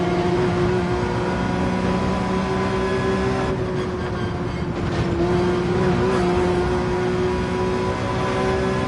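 Race car engine in Gran Turismo 7 at Willow Springs, a loud steady high-pitched whine held at near-constant revs, with a brief rough dip in the middle before the drone resumes.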